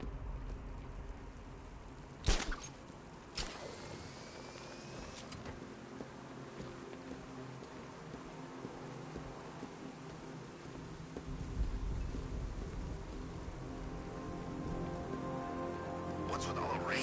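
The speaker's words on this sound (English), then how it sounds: "What's with all the rain?" Steady rain patters on surfaces all around in the video game Batman: Arkham Knight, with a couple of sharp bangs early on and a low rumbling swell later.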